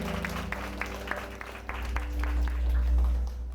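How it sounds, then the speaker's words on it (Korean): A church congregation applauds during a prayer meeting, with brief clapping heard over a low, sustained musical drone that swells toward the end. "서로에게 사랑과 축복의 박수 드리겠습니다"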